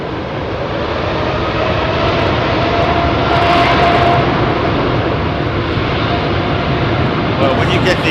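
Loud, close roar of a jet airliner taking off from runway 27R at London Heathrow Airport, a thick continuous rumble and rush that swells slightly midway, with people talking underneath.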